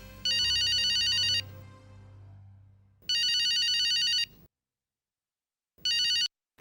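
A telephone ringtone rings in three loud electronic bursts, the first two long and the last short, separated by pauses with a low background hum and near silence between.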